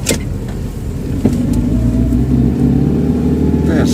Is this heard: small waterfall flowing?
no